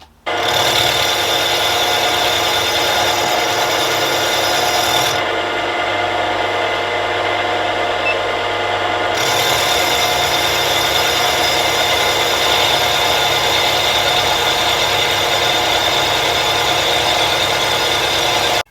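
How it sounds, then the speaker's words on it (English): A machine tool whines steadily and loudly at close range while machining and drilling metal parts for a Stuart S50 model steam engine, its tone shifting partway through as the cut changes, with a constant mechanical drone underneath. "So let's machine that and drill some holes."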